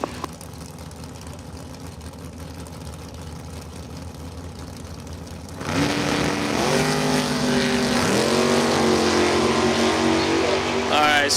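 A drag race car launches hard from the starting line at a Spring 150 main event. Low background noise suddenly jumps to a loud, close, sustained engine roar with revs climbing and dipping.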